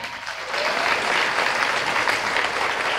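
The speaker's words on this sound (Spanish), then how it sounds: "Fuerte el aplauso para esta niña" A crowd at a primary school closing ceremony in Acapulco applauds a prize-winning student, steady dense clapping rising after a brief announcer voice and holding loud and unbroken.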